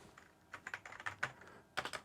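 Clacky keys on a Keychron V6 Max computer keyboard tapped in short irregular bursts, crisp close clicks spaced apart with a brief pause, quiet and alone with no talking.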